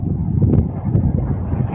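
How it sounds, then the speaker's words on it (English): Wind gusting outdoors on a windy day while walking through a town, a steady low rumble of wind buffeting the microphone with small surges, loud and close throughout. "If you hear wind in the background,"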